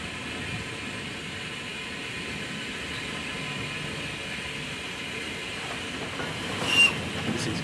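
The Flying Scotsman steam locomotive, heard from the footplate, makes a steady rumbling, rattling roar on the rails, with a brief sharp squeak near the end.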